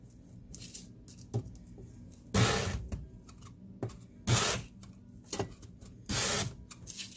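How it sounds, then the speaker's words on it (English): Hand sanding wood with 80 grit sandpaper, close bursts of coarse rasping strokes separated by quiet gaps, three longer passes among shorter scrubs. "you can see that's starting to sand it down nicely"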